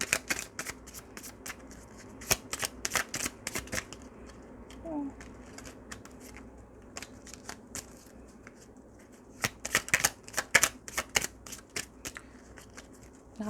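Tarot cards being shuffled close by in rapid riffling bursts, a dense run at the start and another flurry near the end, separated by a calmer stretch of faint handling.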